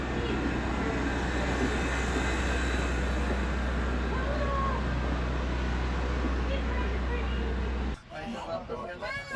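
Passenger coach of a moving train in Old Sacramento, a loud, constant low rumble with rattling and squeaks that stops abruptly near the end, leaving brief fainter sounds.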